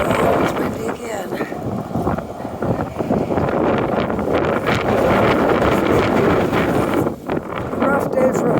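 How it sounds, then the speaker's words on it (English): Strong wind buffets the microphone outdoors on a cold, windy day in a city neighbourhood, a loud continuous rumbling roar with gusting surges, and faint talking is partly buried beneath it. "Oh, it's windy again."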